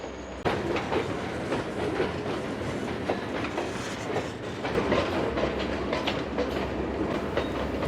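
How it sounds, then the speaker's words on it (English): A freight train is shoved back during car switching, rolling steadily with rhythmic wheel clatter and rumble, fairly close and loud, growing a little stronger midway, with no voices. "The train is then shoved back, the power cut off"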